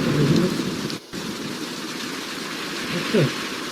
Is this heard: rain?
yes